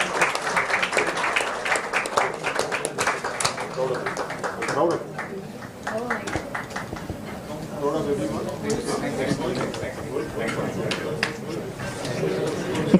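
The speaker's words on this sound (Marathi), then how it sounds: "जोरदार टाळ्या यांच्यासाठी एकदा होऊन जाऊ द्या." Audience applause at a housing lottery programme, a sustained burst of clapping with crowd chatter and a voice talking over it.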